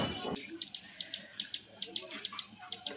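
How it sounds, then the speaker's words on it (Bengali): Liquid is poured back into a container in a home kitchen: a short, loud splashing pour, then faint scattered drips and clinks. "দিয়ে আমি আবার ঢেলে রেখে দিচ্ছি।"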